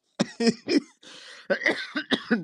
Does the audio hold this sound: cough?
yes